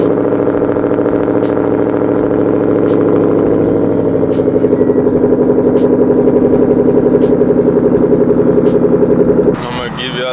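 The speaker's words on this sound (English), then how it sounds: "So this is going to be the last cold start with this exhaust leak." A 2012 Ford Mustang GT with the 5.0 V8 cold-starts with an exhaust leak, settling into a loud, close, steady high idle with a rough, ticking exhaust pulse that cuts off abruptly near the end.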